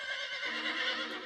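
A cartoon horse neighs in one brief, bright whinny that fills the short moment, loud and close with a slight rising tremble.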